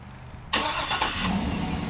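A 2008 GMC Yukon XL Denali AWD is started by remote start: after a quiet moment the engine cranks and catches abruptly, then settles into a steady idle, close and alone.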